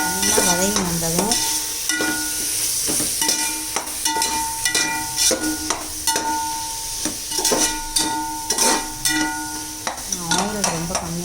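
Tomatoes and spices sautéing in a little sesame oil, a steady sizzle broken by repeated sharp scrapes and clinks of a spoon stirring the pan, close and clear.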